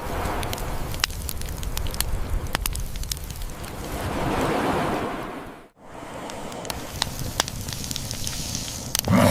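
A crackling fire burns by the sea, with shells roasting in it, in a setting of early humans 30,000 years ago. Irregular snaps and pops ride over a constant wash of surf and wind, with a brief dropout midway.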